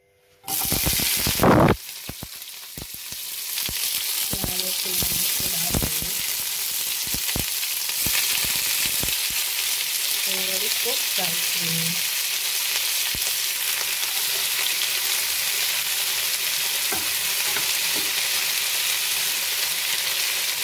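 Food drops into hot oil in a pan with a loud burst, then fries with continuous close sizzling and crackling, broken by occasional clicks and scrapes of stirring.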